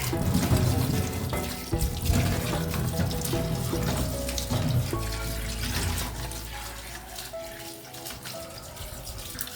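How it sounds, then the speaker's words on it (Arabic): Dates are rinsed under a running kitchen tap, the water gushing steadily and close with light splashing and rattling of the fruit, continuous throughout. "احنا هنغسله البلح وهحطه في العلب"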